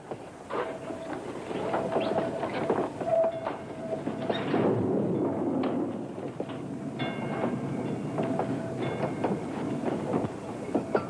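A train rolls along the tracks in a 1960 crime drama, a continuous rumble with irregular clicking and clanking of wheels and cars, moderately loud and steady, with no talking.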